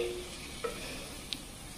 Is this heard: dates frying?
yes